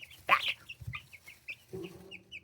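Chickens in a coop bedded with pine shavings cluck softly, with a few short close calls and chirps against a quiet background.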